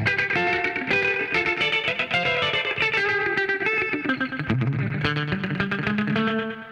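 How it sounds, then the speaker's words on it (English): Distorted electric guitar playing a dense riff with a short, quick slapback echo repeating each note, plus a wash of reverb, loud and continuous. "It's a slapback, right? With about two slaps."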